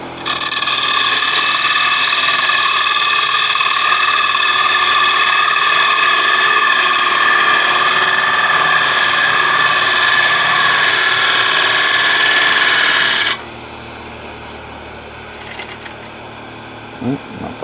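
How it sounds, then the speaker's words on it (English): A wood lathe spins a bowl mounted on a worm screw as a gouge takes a finish cut, giving a loud, steady whining drone for about thirteen seconds before it cuts off, leaving quieter handling sounds. "Right, then you go in, get a good finish cut on it."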